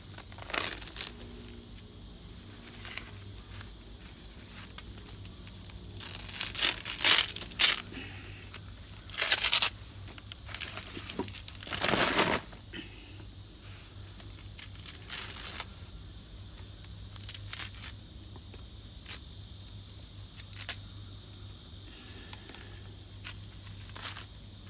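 The dry, brittle shell of a loofah gourd is peeled and broken off by hand, giving intermittent crackling and crunching bursts over a quiet background, closest and loudest in a few short clusters.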